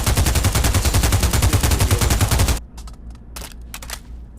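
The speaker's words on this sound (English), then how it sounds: "Now this assault rifle." Assault rifle in the VR shooter Pavlov, set in the Shack mode, firing a loud rapid automatic burst for about two and a half seconds, then a few scattered single shots and clicks.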